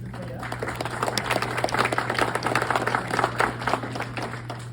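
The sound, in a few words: audience applause for speaker Ben Hancock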